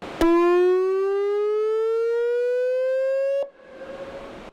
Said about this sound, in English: want to know if the siren has to be so loud